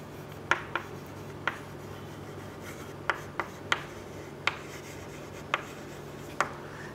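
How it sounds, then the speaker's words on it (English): Pen strokes of handwriting during a biology lesson on ecosystems, about ten short, faint scratches spread unevenly over a quiet room hum, with no talk. "So I am writing over here."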